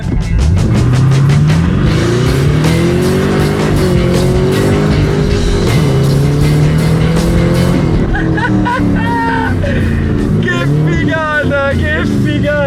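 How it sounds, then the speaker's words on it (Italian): A 2010 Chevrolet Camaro SS with a 435 hp V8 accelerates hard from 0 to 100 km/h, its loud engine note climbing steadily through the gears with brief shift dips, while people inside talk and shout over it. "Vogliamo vedere un attimo uno 0-100, capiamo un attimo cosa è capace di fare questa macchina ragazzi."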